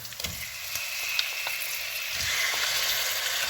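Mutton fries with green chili in a pan for a pepper sothi, giving a steady, close, crackling sizzle with light stirring and no talk.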